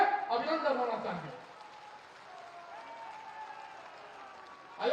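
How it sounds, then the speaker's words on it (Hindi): A crowd claps for the chief minister at a Nari Shakti Vandan ceremony in Deoria, as steady, fairly distant applause that follows a voice speaking over a loudspeaker at the start. "जोर से तालियां बजा के पहले तो स्वागत होना चाहिए, अभिनंदन होना चाहिए"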